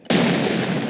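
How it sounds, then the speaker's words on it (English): A grenade explodes in the online shooter SCDA Online: one sudden, loud, close blast with a sharp onset and a broad, sustained roar that fills the second without fading much. "Wow, third grenade."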